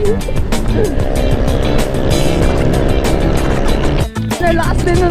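A Honda PCX 160 scooter fitted with an MT8 exhaust pipe revs hard, its loud buzzing engine note rising and falling close by, with a brief dip near the end.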